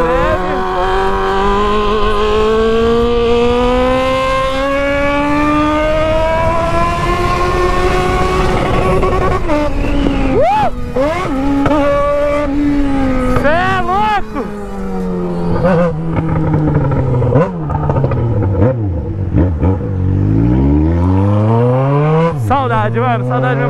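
A Yamaha XJ6 motorcycle revs loudly with an open, raw exhaust, engine pitch climbing and dropping repeatedly as it passes close by.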